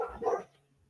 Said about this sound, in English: She's barking now.